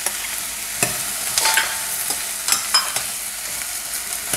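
Mixed vegetables with potato and beetroot sautéing in a pan for a chapati curry, a soft steady sizzle broken by sharp spatula scrapes and taps every second or so.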